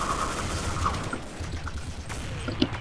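Rapid gunfire in Counter-Strike, a quick burst of overlapping shots that sounds like a fusillade over a short stretch, mid-level in loudness with no talking.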